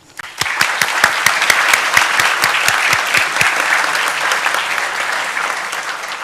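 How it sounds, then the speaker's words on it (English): Audience applause at a Georgia Tech College of Sciences master's commencement ceremony, rising abruptly into steady dense clapping with sharp individual claps standing out, sustained loudly for several seconds before tapering slightly. "please join me in applauding all of those who supported you along the way"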